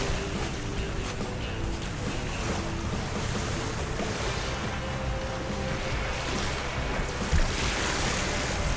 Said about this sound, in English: We've made it down here to the Indian River.